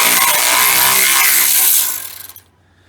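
A wrench loosening bolts on a Chevelle's grille area gives a loud, continuous whirring rasp for about two seconds. It then sputters in a few short pulses and cuts off into near silence.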